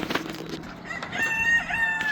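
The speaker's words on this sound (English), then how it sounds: "We have the chickens in the back barnyard and the ducks in the front barnyard." Chickens cluck in a back barnyard while a rooster crows nearby, a short, fairly loud burst of farmyard calls.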